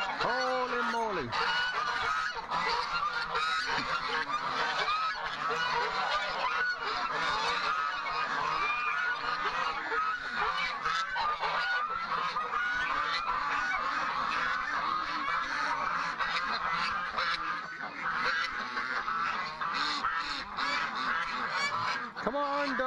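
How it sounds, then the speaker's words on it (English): Geese honk loudly and continuously in a dense, overlapping chorus at close range, with ducks mixed in at a farm poultry enclosure in the morning, and a voice occasionally under the din. "I'm coming, geese"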